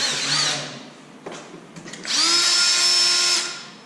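A power drill whirs in a short burst, pauses with a few clicks, then runs again in a longer, loud, steady whine, while an AEM intake is installed on a 2016 Subaru WRX.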